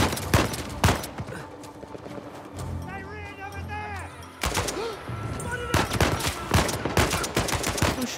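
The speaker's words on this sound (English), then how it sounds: "Who's shooting me?" Gunfire from the Uncharted 4 video game: sharp broadband shots in loose bursts, several clustered near the start and more rapid volleys toward the end, loud and close, with someone talking over parts of it.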